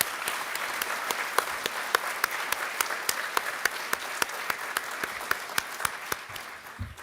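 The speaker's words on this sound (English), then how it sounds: "Please join me in a round of applause for these dedicated instructors." At a paramedic program graduation, an audience gives a round of applause for the instructors, a steady wash of clapping with sharp individual claps standing out, continuing without speech.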